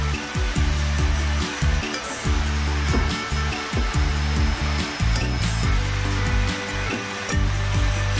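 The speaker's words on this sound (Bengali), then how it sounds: "এরপর ধুয়ে রাখা কেটে রাখা বেথুয়া শাক এর মধ্যে দিয়ে দেব। একটু নেড়ে চেড়ে নেব।" Bathua greens stirred while frying in a pan, a steady sizzle broken by repeated scraping strokes of the spoon at an uneven rhythm, close and fairly loud, with no talking.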